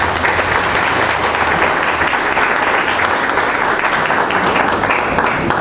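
A church congregation claps in a strong, sustained round of welcoming applause, dense and even throughout with no pauses.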